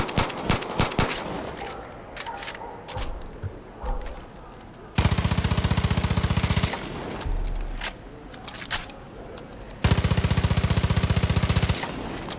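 Rapid bursts of automatic gunfire and sharp shots from Far Cry 5, loud and dense, with sustained rattling volleys between quieter scattered hits.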